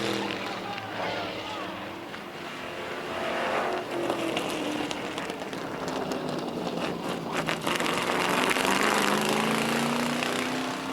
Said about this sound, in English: you hear the car not even running as it tries to coast along